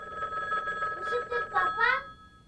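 An electronic telephone bell rings continuously with a steady, high trilling tone inside a home, while a voice calls out over it.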